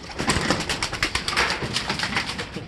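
A skittish pigeon-like bird coos and flutters nearby while being fed, with soft repeated calls over a dense rustling background.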